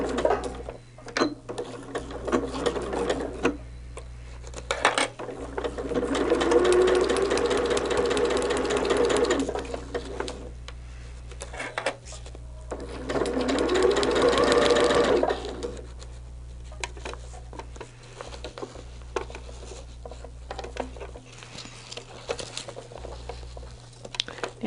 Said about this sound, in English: we're going to start sewing there at the point